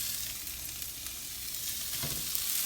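Ground turkey with zucchini, squash and caramelized onions, seasoned with salt, pepper and olive oil, hissing in a sauté pan: a steady, close frying sizzle with faint stirring scrapes and no talk.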